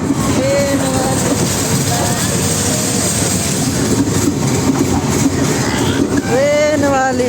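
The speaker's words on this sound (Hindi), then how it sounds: "हम ट्रेन वाली झूला पे हैं," A rattling toy-train amusement ride clatters steadily and loudly, a continuous rumble with clickety-clack and a whine, while people riding it talk and call out over the noise.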